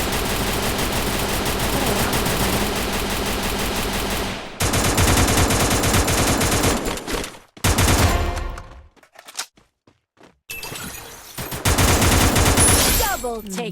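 Loud, rapid automatic gunfire from the Free Fire video game in clash squad mode, long sustained bursts with brief silent gaps, interrupted by short pauses and then resuming, with a voice faintly present underneath.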